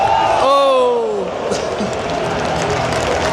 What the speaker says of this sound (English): His kid's getting a big cheer.